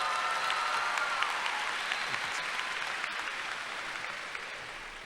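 Steady crowd applause at a North Garland high school commencement ceremony in 2025, dense and sustained throughout, tapering slightly near the end.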